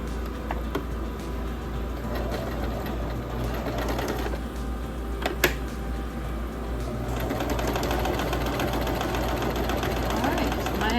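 A repaired sewing machine runs steadily, a continuous mechanical drone with a strong low hum and rapid stitching rhythm, close and fairly loud, with a brief sharp click midway and faint background voices.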